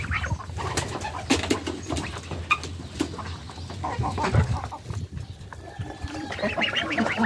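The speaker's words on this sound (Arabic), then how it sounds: "بس طبعا ذكر البط في واحد هنا، شايفين التاني فين؟" Farmyard poultry with ducks quacking among other birds, dense overlapping calls and clucks over a steady background hum, fairly close and continuous.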